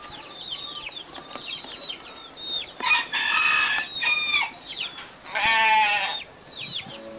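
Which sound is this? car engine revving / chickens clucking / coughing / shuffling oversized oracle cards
chickens clucking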